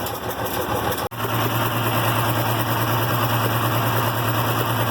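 An IH Farmall 706 tractor engine idles steadily after carburetor work, a loud, close, continuous low rumble with a brief dropout near the start and then an even, unbroken run.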